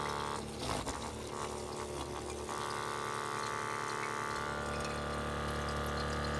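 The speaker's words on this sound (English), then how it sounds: "the water shooting through there" Water rushes steadily through a Glacier Bay bottom-load water dispenser during a leak repair, giving a continuous close hiss and gurgle with a pump-like hum underneath. A few brief clunks sound early on, and no one speaks.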